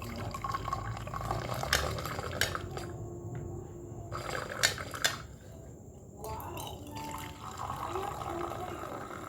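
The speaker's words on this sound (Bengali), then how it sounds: "দুধ চা ঢেলে নিই, তারপরে আমি আর তোমাদের দাদা ভাই খাবো।" Milk tea being poured into cups gives a soft, liquid trickle with light clinks of crockery, set against muffled household background and faint voices.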